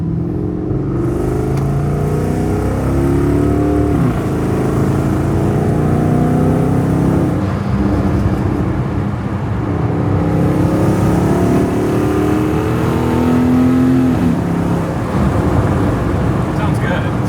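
Porsche Cayenne GTS engine revving hard during aggressive driving with the windows down, a loud continuous roar with rising and falling pitch mixed with wind and road noise, and a voice talking over it.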